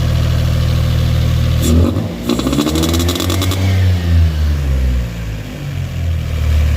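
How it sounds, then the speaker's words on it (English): An engine idles then revs up with a buzzy, raspy two-stroke-like intake rasp, rising and falling in pitch before settling. "Sounds like a two-stroke coming out of the intake."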